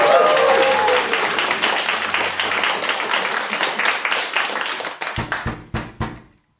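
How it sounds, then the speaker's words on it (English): A studio audience bursts into applause for a contestant's idea, dense clapping that thins into a few scattered, distinct claps before stopping, with some voices mixed in early on. "A round of applause, please, for Bec's big idea."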